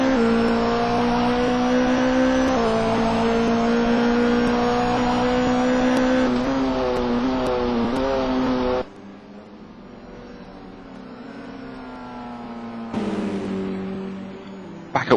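Several GRC racing cars roar around Donington circuit at full throttle, engines droning with rising and falling revs, one car pulling close before the sound drops away sharply and another surges back in near the end.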